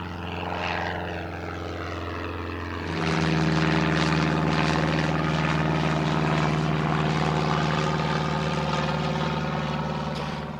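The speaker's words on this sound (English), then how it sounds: "That was just some private aviation plane that just took off that I was not expecting." A private propeller plane taking off near a London airport, the engine rising from a moderate drone to a loud, steady roar after a few seconds, with no talk.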